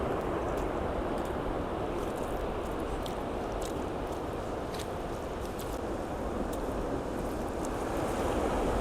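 Waves washing onto a beach shore in the evening, a constant broad surf roar with light wind noise on the microphone, no talking.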